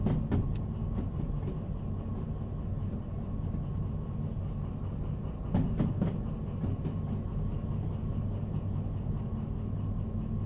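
A DE6 diesel locomotive rumbles along the track in the Derail Valley video game. A steady low drone runs throughout, with a few sharp rail clicks and clacks near the start and midway.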